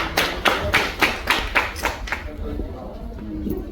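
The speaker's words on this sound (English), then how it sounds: "So I want you guys to clap it up for yourselves" A handful of loud, separate claps from an audience clapping for themselves at a business funding talk in Atlanta, about eight sharp hits in uneven rhythm, then fading into murmuring room noise.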